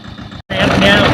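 A tractor engine runs steadily while spraying pesticide on farm crops, a loud continuous mechanical drone that cuts out briefly and then returns.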